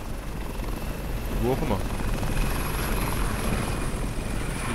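Helicopter rotor and engine drone in the shooter game Crysis, a steady loud whir running throughout under someone speaking German.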